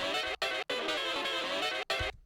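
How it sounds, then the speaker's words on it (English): A saxophone through a Bedroom Producer saturator plugin plays with a gritty, saturated distortion, buzzy and dense, in sustained phrases broken by short gaps. "So the saxophone starts distorting"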